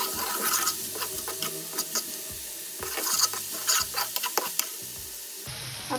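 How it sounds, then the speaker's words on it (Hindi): Chicken manchurian frying in a pan with soy sauce and vinegar, a spoon scraping and stirring in irregular strokes over a constant close sizzle, with no voices. "अब इसके अंदर सारे मसाले डाल देने हैं, सोया सॉस, सिरका, कुछ तरह मिक्स कर लें।"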